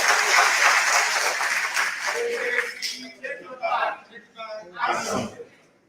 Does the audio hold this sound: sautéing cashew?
no